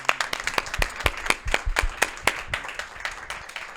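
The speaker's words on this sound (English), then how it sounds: "Big round of applause for Peter" Applause for a speaker at a Boston event, with sharp close handclaps from a few nearby people popping out above a thinner spread of clapping behind them.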